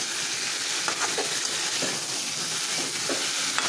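Salted spices get stirred in a frying pan, a constant frying hiss with a few short scraping strokes of the spoon, close and steady for a few seconds.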